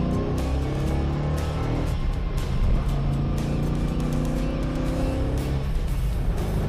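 Interior of a Mustang Shelby lookalike cruising in fourth and fifth gear through a Cal Pony transmission adapter, giving a loud, steady engine drone with road and wind rumble throughout and no voices.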